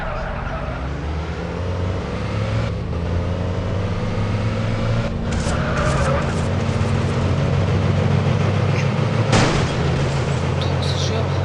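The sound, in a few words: car drifting in the video game Madout2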